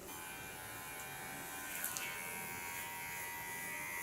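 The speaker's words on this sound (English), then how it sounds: "Just take a clipper." An electric hair clipper with ceramic blades cutting hair runs as a faint, steady buzz with small scratchy bursts as it moves through the hair. Only the clipper is heard.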